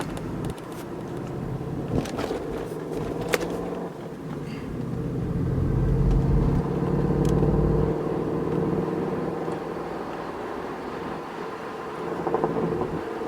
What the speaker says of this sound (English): It's a loud Mustang in front of me.